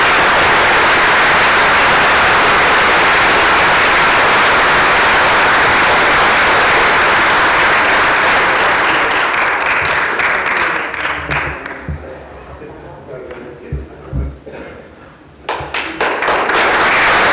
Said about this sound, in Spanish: Un aplauso para Cecilio Jiménez